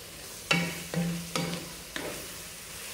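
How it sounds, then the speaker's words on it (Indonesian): Qurban meat frying in a pan while being stirred: four distinct scraping strokes of the spoon, each with a short sizzle, spaced about half a second apart over a quiet steady crackle, close up with no talking. "Kita aduk. Kita aduk terus."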